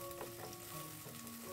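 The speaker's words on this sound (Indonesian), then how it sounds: "siapin wajan, kasih minyak biar panas, terus langsung aja deh bumbunya aku masukin," Spices stir-frying in hot oil in a wok give a steady close sizzle with faint stirring scrapes, alone and without voices.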